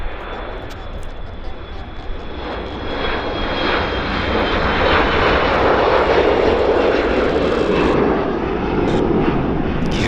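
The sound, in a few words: Dash 8 charter aircraft taking off at Vancouver airport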